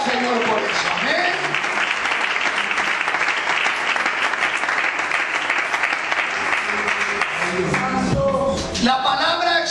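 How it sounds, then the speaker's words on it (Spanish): Church congregation clapping in praise during a sermon, loud and sustained dense applause filling the room for nearly ten seconds, with a voice rising briefly near the end. "Aplaude al Señor por eso."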